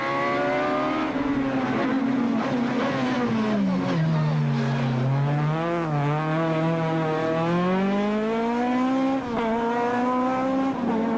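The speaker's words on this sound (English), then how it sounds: "The spectators, however, seemed oblivious of just how fast the Sasol Golf was approaching" Sasol VW Golf rally car on a rally stage, its engine screaming loud and close as it charges in fast, revs rising and falling through gear changes and hard acceleration, with an announcer talking over it.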